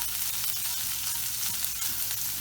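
Ham warms in a hot pan that was also used for cooking galettes, giving a constant hissing sizzle that stays even and close throughout, with no voices.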